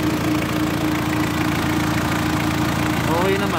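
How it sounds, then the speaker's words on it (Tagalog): Mitsubishi Pajero 4M40 diesel engine idling after a top overhaul, a steady close rumble with a fine rhythmic clatter, while someone talks over it. "So yan, matinis ko ng tunog na makina."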